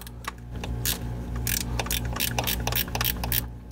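Ratchet wrench tightening the front oil filter housing bolt on a BMW N54 engine, a quick run of close, sharp pawl clicks in uneven bursts over a low background hum.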